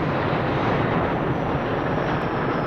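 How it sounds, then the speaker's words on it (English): A big Boeing 707 jet approaching the runway for landing makes a steady, dense roar that stays constant and fairly loud, like a broad engine wash without distinct peaks. "the big 707 has just turned on its landing lights and is hovering slowly over the runway, approaching the field from the north"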